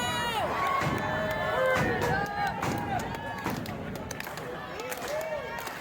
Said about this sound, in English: Fans are starting to clap.